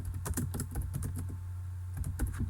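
Rapid typing on a computer keyboard, a quick run of crisp clicks, a pause, then another burst, over a steady low hum. No one speaks.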